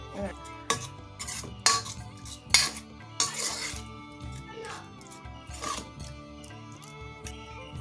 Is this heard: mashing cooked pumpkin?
yes